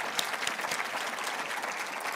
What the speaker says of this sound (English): So can we give them a round of applause and appreciation?